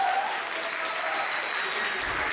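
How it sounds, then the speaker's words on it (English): Applause from an audience at a Labor Day show, a dense, steady wash of clapping that fills the whole stretch at fairly close range. "Let's practice clapping."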